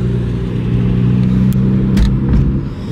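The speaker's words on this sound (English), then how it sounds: "So I got the Armatrix downpipes to the M Performance titanium exhaust." A BMW M car fitted with Armatrix downpipes and an M Performance titanium exhaust rumbles loudly up close, its engine holding a deep, steady drone with slight rises in revs.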